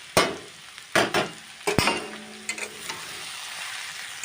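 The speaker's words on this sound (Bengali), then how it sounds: "এবারে কিন্তু গ্যাসটাকে হাই ফ্লেমে করে হালকা হাতে কিন্তু নেড়ে নিতে হবে" Soaked poha (flattened rice) is stirred in a pan over a high flame: sharp scraping strokes of a spatula come in quick bursts over a soft frying sizzle that lingers as the stirring slows.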